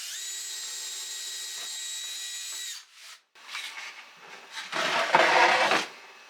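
Jigsaw cutting a wooden bread board: a steady high buzzing drone for a few seconds, a brief pause, then bursts of rough, louder sawing close by.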